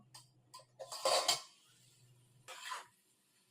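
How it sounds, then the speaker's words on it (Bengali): Clinks of a lid and spoon against a cooking pot of mung dal with cucumber, a few sharp metallic clatters and scrapes in short bursts with quiet pauses between, fairly close. "ঢাকাটা খুলে আমরা আরেকবার নেড়ে দেব"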